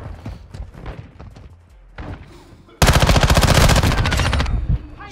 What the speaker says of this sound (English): He's fucking using a fucking shotgun.